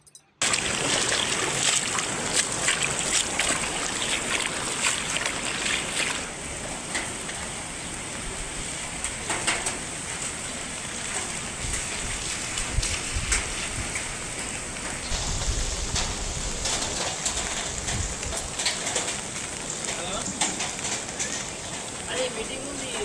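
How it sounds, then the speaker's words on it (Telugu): Very heavy rain pours down in Kamareddy, a loud, dense, unbroken hiss of drops drumming on surfaces, with faint bird calls in the background. "కామారెడ్డిలో అతి భారీ వర్షం."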